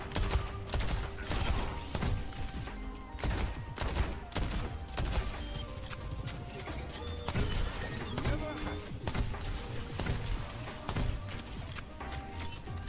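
Dense, continuous gunfire in the team shooter Overwatch 2, rapid overlapping shots and impacts crackling for many seconds amid chaotic battle effects, loud and close throughout.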